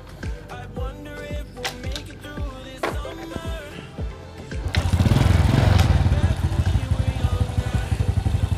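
Kick-starting an old 2000 Honda Supra motorcycle: repeated kick strokes with sputtering attempts, then the engine catches and runs loudly and steadily up close, with brief voices over it.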